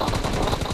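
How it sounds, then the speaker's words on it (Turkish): Rapid bursts of shotgun fire from a rooftop in PUBG Mobile, loud and close, with repeated shots in quick succession. "Pompalıyla mı sıkıyorsun çatıdan?"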